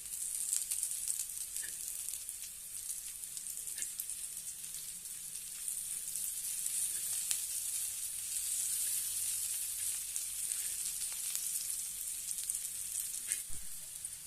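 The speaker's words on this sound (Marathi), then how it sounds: "दोन्ही साईडने छानपैकी आपल्याला हे फ्राय करून घ्यायचे आहेत" Sliced bitter gourd (karela) fries crisp in a pan, giving a steady, bright sizzle that runs unbroken throughout, with a few soft clicks and bumps of handling and no voices.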